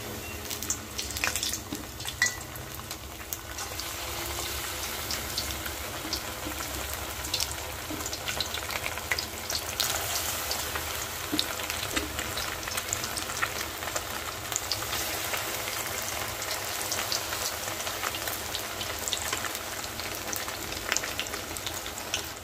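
Vegetable ukoy fries in very hot oil over a charcoal stove, giving a steady, dense crackling sizzle that holds evenly throughout with small pops and no talking.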